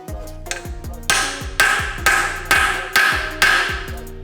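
Extractor socket hammered onto a locking lug nut on a crashed Toyota GR Supra, with about seven loud, close metallic blows in a steady rhythm, each ringing briefly before the next strike.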